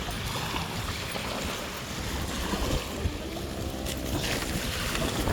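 Dense, steady rumble of a boat on the water heading to Masasa Beach, with wind and lapping waves mixed in, continuous and fairly loud, without speech.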